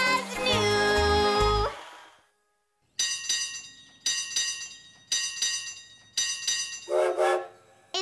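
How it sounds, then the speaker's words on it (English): An old steam engine train sounds in a children's cartoon, starting with a loud whistle-like blast and then a regular, chugging series of bursts that ends in a short tonal hoot. "It's an old steam engine train."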